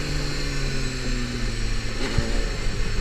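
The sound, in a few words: Honda CBR250RR motorcycle engine bogging down, running out of petrol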